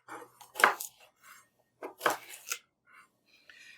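A knife cuts a small carrot on a cutting board with a rocking motion, giving a few crisp, close chopping strokes in two short clusters with quiet gaps between them.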